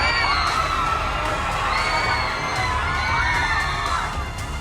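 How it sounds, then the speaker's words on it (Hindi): Excited crowd screaming and shouting at Allu Arjun, a dense continuous roar of cheering, high-pitched shrieks and whoops, loud and sustained throughout. "पीछे से अल्लू अर्जुन को देखकर रोमांच में डूबी भीड़ के चीखने और चिल्लाने की आवाजें सुनाई दे रही हैं।"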